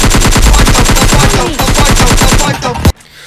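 Rapid automatic gunfire from a mobile shooter game, a dense, loud, steady burst of repeated shots that runs for most of the clip before cutting off abruptly into near silence.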